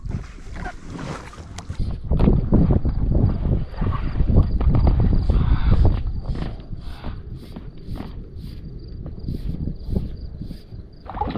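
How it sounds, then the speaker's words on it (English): Strong gusty wind blowing across open water while pack rafting near rocky cliffs, a loud broadband rush with constant buffeting and rumbling on the microphone, rising between two and six seconds and then easing slightly. "The wind has really picked up,"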